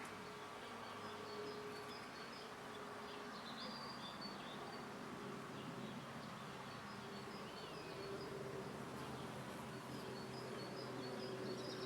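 A steady buzzing hum of many honeybees working tree peony flowers, continuous and close, with faint bird calls in the background.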